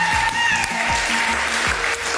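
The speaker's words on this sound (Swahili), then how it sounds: "Wamependeza kweli kweli, tuwapigie makofi mengi." A wedding-show audience claps loudly and continuously, a dense close applause with music-like tones layered beneath.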